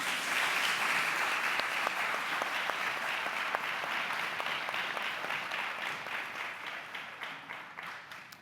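An audience welcoming the evening's moderator at a policy forum, with dense sustained applause from a large crowd that starts strong and gradually thins out toward the end.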